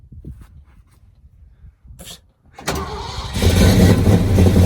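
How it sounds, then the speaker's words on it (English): A 1979 Ford truck engine is quiet at first apart from faint clicks and rustles, then cranks over, catches and settles into a loud, rough running roar close by. "This is the last time this motor's ever gonna crank over."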